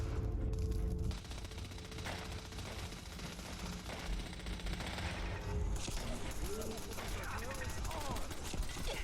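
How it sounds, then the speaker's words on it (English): Automatic turret gunfire in the Fallout 4 video game at Bunker Hill, sustained rapid bursts with a dense, steady clatter running through the whole clip over other combat noise and background game sound. "Oh, the turret's shooting at me."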